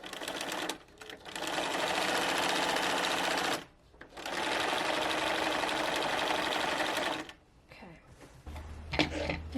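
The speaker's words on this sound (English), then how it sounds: "I'm going to sew right over it" A sewing machine stitches over the thick seam of a partially zippered beanbag slipcover, running in two long steady bursts with brief stops between, and a little handling noise at the end.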